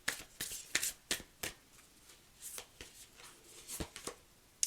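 Moonology oracle cards being shuffled in quick, crisp bursts, each riffle a sharp papery flurry separated by short pauses, close and fairly quiet with no talking.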